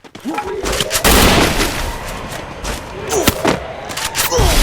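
Dense, loud bursts of gunfire fill a match of the mobile battle-royale game Free Fire, with rapid automatic volleys and sharp single shots throughout. A player talks over the shooting.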